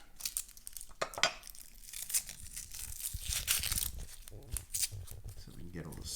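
Dry, papery onion skin crinkles and tears in close, irregular bursts as a scored onion is peeled by hand, with a voice talking over part of it.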